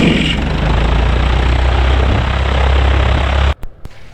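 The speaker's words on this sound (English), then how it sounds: "Remain clear of my propeller. I'm commencing engine start." A propeller aircraft engine runs with a loud, steady, close droning roar and a low throbbing beat, then cuts off abruptly near the end, leaving only a few brief knocks.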